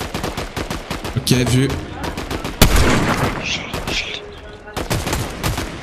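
Bursts of gunfire in the video game Fortnite crackle repeatedly nearby, several rapid volleys and single shots with a heavier boom midway, while players talk over the shooting.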